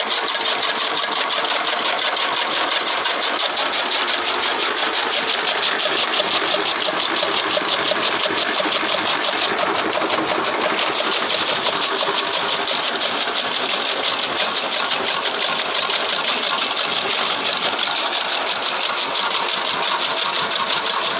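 A fodder-making machine runs in a village, chopping feed for animals, with a loud, steady mechanical whir and engine drone that continues unbroken throughout.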